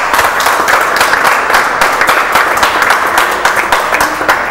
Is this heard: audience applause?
yes